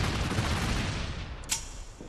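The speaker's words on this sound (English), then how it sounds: "this launcher, it fires up to 6 missiles with a quadrillion explosions each" Missile launcher in a video game firing a volley of explosive missiles: a dense, roaring barrage of booms and blasts that slowly fades, followed by a sharp crack near the end, loud and without talk.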